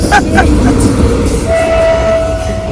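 A loud train rumbles close by at a station platform with heavy low mechanical noise, a brief horn-like tone sounding partway through.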